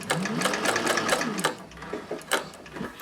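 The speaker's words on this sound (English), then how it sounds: "It's not hard holding the tote bag in place as I sew." A Techsew 4800 Pro sewing machine stitches through a tote bag, giving a close, steady mechanical whir with rhythmic needle clatter that speeds up and pauses briefly.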